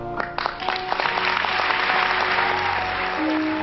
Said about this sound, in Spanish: Cuando Malala terminó, la sala estalló en aplausos